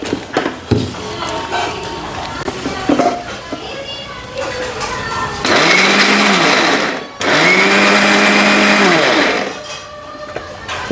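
Mixer grinder churning a poha laddu mixture with jaggery, running in two loud, sustained whirring bursts with a short pause between, preceded by kitchen clatter and voices talking nearby.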